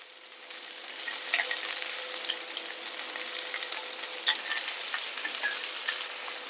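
Red chili powder fries in hot oil and gets stirred in a pan, a steady close sizzle with light scraping clicks and a faint background hum.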